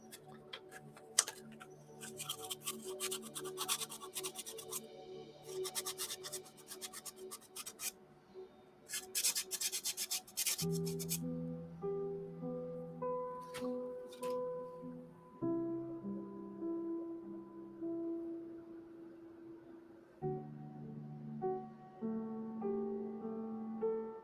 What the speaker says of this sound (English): Sand that spot.